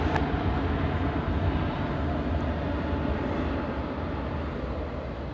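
A Jetstar Boeing 767 airliner departs Adelaide Airport bound for Sydney, a loud, broad, continuous jet engine roar heard from outside that slowly eases as the aircraft moves away.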